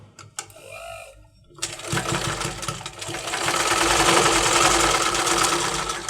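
A sewing machine stitching a blouse starts after a few quiet clicks, its rapid mechanical whirring and needle chatter building to a steady, loud run close by.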